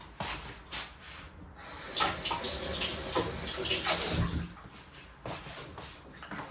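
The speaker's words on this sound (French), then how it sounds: "Donc je vais remettre un peu d'eau." Water poured from a tap or jug into a plant pot, a steady splashing rush lasting a few seconds between shorter bursts, close by with no talking.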